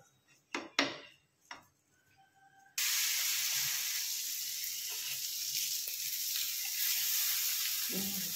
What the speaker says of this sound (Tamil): ஒரு 2 ஸ்பூன் அளவுக்கு எண்ணெய் ஊத்திக்கலாம்